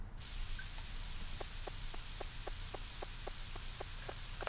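Steady synthetic rain hiss fills the outdoor scene of the Harvest Moon 64 video game, a continuous wash of even patter with a regular series of soft ticking drops, with no talk over it.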